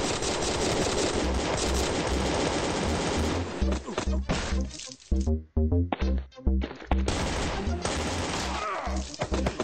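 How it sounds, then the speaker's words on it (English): Rapid bursts of military machine gun fire in a video game, dense and loud with a brief choppy pause midway before the sustained automatic fire resumes. "Military machine gun now."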